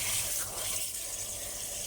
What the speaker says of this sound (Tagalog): Kaya doon malakas yung pressure ng tubig.